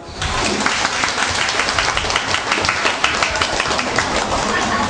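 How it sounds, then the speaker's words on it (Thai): Loud, dense applause from the crowd at a Thai political forum and discussion event, continuous clapping that fills the space evenly for several seconds. "ช่วยปรบมือหน่อยนะครับ"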